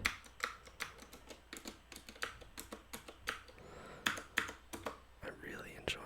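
A mechanical keyboard gives loud, clunky key clicks, close up, in an irregular run of sharp separate strokes while someone talks quietly over them.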